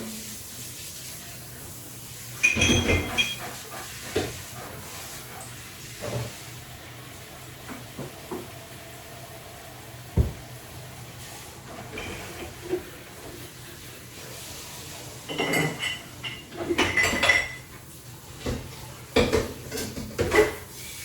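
Dishes and a bacon pan being rinsed in a kitchen sink, with intermittent clinks of pots, plates and cutlery over a faint background of running water.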